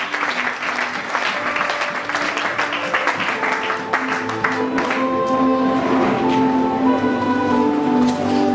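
A church congregation applauds at length, a dense roll of clapping that keeps building, with voices and music rising beneath it toward the end.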